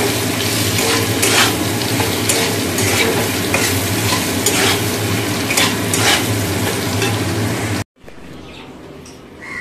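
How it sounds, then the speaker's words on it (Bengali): Potatoes fry in a pan tempered with Bengali five-spice (panch phoron), a loud, steady sizzle with scattered stirring scrapes that cuts off abruptly near the end, leaving a quieter background. "এইদিকে 5 ফোড়ন দিয়ে আলু বসিয়ে দিয়েছি, একটু ভেজে নিয়ে তারপরে পোস্তটা দিয়ে দেবো"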